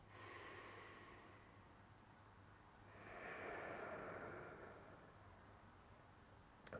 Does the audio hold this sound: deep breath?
yes